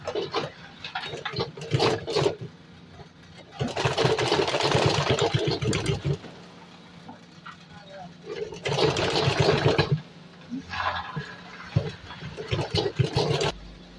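A sewing machine stitches a sinbono bag in loud, whirring bursts of a few seconds each, separated by quieter pauses with faint handling noise.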